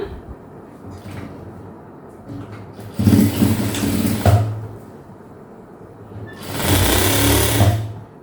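A sewing machine stitches a seam on a half circle maxi dress, running in two clear loud bursts with quieter mechanical hum between them, no talking.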